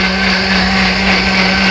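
A blender whirs loudly and steadily at close range, blending a cocktail, a constant motor hum with no change in speed, no voices.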